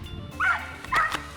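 A dog gives two short, high yelping barks at a squirrel it has chased out of a tree, close and outdoors, with a little background noise.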